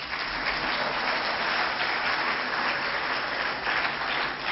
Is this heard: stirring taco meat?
no